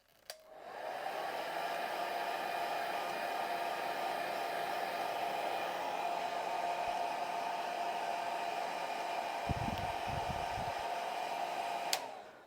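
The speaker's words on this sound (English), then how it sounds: "then we dry with the hairdryer." A hair dryer drying a freshly dyed leather jacket blows steadily and loudly for several seconds with a constant whooshing hum, switching on at the start and cutting off near the end.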